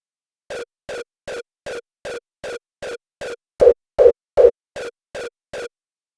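A rawstyle hardstyle kick punch drenched in heavy distortion repeats fourteen times in a steady rhythm, each hit a short gritty burst, with three louder, fuller hits in the middle of the sequence.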